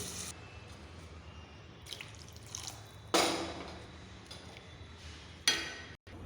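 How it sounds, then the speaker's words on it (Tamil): Water trickles and splashes steadily into a pot of sweet corn soup, with a couple of sharper clinks and splashes standing out against the continuous pour. "தேவைப்பட்ட தண்ணி ஊற்றிக்கலாம்"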